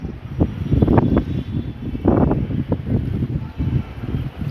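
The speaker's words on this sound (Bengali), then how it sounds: "প্রচণ্ড বাতাস" Strong wind blowing outdoors near a lemon tree, roaring in gusting surges with heavy microphone buffeting, loud and close, with no talk.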